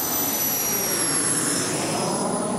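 A jet engine fitted to an RC car runs at full power in a loud, steady roar with a high whine riding on top, continuous and close.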